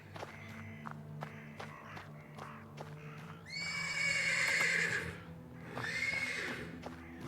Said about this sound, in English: The persistent neighing of a horse can be heard from...